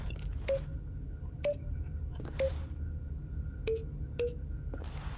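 Phone keypad button tones in The Stanley Parable video game: five short, clear beeps spaced about a second apart, each a brief electronic tone over a low background hum.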